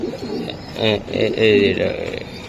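A pet Kaldom racer pigeon coos close by as it is caught and held by hand, with someone talking over and between the soft, throaty calls.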